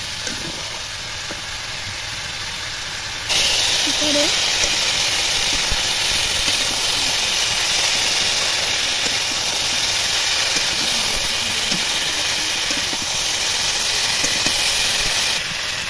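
A pumpkin and Malabar spinach curry with fish fries in a pan, giving off a continuous hissing sizzle that grows louder after a few seconds and holds steady throughout.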